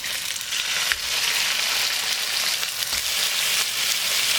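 Salted salmon steaks frying in a pan, a loud, steady close sizzle with a few faint knocks, no voices.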